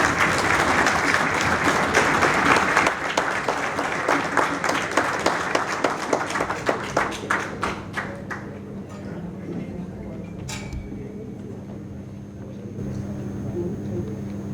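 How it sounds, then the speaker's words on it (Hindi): A crowd at a BJP youth wing Yuva Samvad event in Delhi gives loud applause to welcome Union Minister Dharmendra Pradhan. Dense clapping thins into separate claps and dies away after about eight seconds, leaving a low hum. "श्री धर्मेंद्र प्रधान जी, तो जोरदार तालियों के साथ आप स्वागत करेंगे।"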